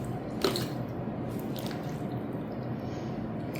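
Peach slices are packed by hand into canning jars with a warm honey and water syrup, making close wet squishes and drips with a small clink near the start.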